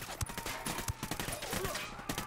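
Gunfire in the tactical shooter Ghost Recon Wildlands, a rapid burst of sharp shots in uneven succession with muffled battle noise, fairly quiet overall.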